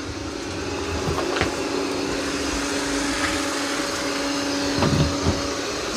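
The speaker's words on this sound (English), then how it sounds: "Now it's mopping that area." A Roomba 505 robot vacuum and mop works across a floor, giving a steady, close whirring motor hum with faint bumps and clicks and no talk.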